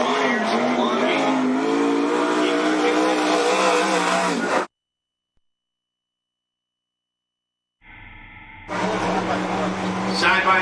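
Race cars at Cottage Grove Speedway roar loudly in a dense engine rumble, cut off by a few seconds of silence, then return; a louder burst of engine noise rises near the end.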